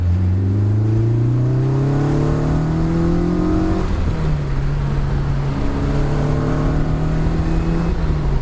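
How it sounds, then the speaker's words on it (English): A Westfield sports car engine revs hard and climbs in pitch through repeated gear pulls, loud and close, with a brief drop in the middle before building again. "When you put your foot on the loud pedal,"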